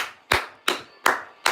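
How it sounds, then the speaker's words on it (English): Four sharp hand claps land in an even rhythm roughly every third of a second, close and crisp, with silence between them. "Clap it up!"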